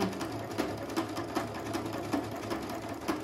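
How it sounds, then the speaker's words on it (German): A Brother Innov-is 100 sewing machine stitches steadily at close range, with regular rhythmic needle clicks about three times a second over a constant motor hum, no talking. "Es ist sehr einfache Nähmaschine"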